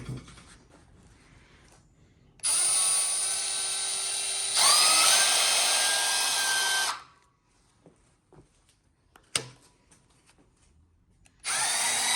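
A repaired Milwaukee Fuel cordless drill whirs loudly in two long bursts, its pitch rising as it speeds up, then stops before a third burst starts at the end.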